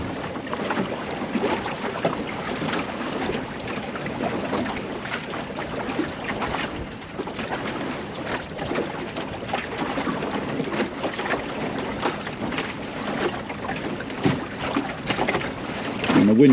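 A Welsford Navigator sailing dinghy cruising in wind, continuous rushing water and wind noise along the hull, steady and fairly close, with no talking.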